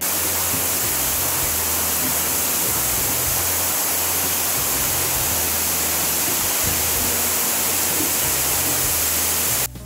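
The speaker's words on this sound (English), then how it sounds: "the picturesque waterfall gushes down a bumpy hillside into tranquil turquoise pools" Somerset Falls in Portland, Jamaica pours down a bumpy hillside into turquoise pools, a loud, constant broadband rush of falling water with no pauses.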